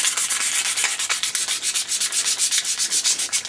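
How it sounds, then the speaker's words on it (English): Damp, very fine sandpaper scrubs surface rust from a Marx Big Bruiser toy tow truck in quick, steady back-and-forth strokes, a close, even, rhythmic rasp with no talking. "we dampen a little bit of very, very fine sandpaper"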